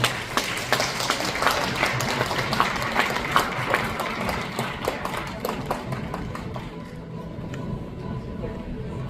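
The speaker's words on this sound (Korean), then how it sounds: "다시 한번 큰 박수 부탁드리겠습니다" An audience in a hotel hall at an arts critics' awards ceremony gives sustained applause, with dense clapping that gradually thins and softens toward the end, leaving a faint hum and a few scattered claps.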